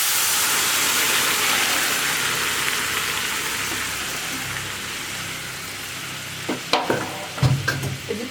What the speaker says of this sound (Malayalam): വെജിറ്റബിൾസ് ചേർത്ത് നന്നായിട്ട് ഇളക്കി മിക്സ് ചെയ്യുക